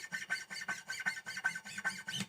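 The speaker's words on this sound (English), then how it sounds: "in the guitar community, we call that string noise." A hand slides along guitar strings, giving string noise as a rhythmic series of raspy squeaks, roughly five per second, close and quiet with nothing else behind it.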